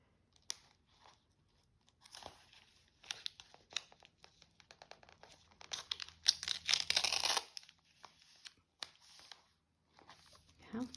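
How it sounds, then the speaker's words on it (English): Washi tape is peeled and torn to cover the white part of an envelope, with quiet crinkling, sticky peeling and short tearing rips, close and soft, scattered through the passage. "I thought I could just cover that up with some of this fun washi tape."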